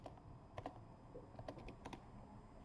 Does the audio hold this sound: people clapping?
no